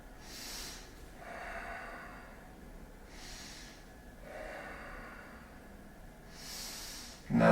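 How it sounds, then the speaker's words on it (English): Slow, deep breaths during a gentle yoga back bend in a restorative hatha session: several airy inhales and exhales, close to the ear in a quiet room. "And let's just breathe here."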